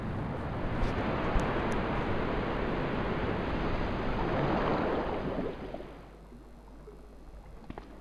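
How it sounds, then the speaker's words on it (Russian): Water runs steadily from a tap in Resident Evil 2, a continuous broadband rush that fills the first five and a half seconds and then cuts off, leaving a quieter room tone. "Пускаем воду."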